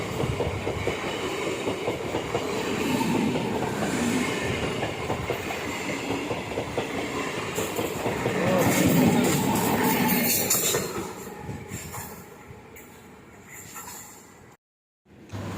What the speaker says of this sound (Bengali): ট্রেন চলাচল করছে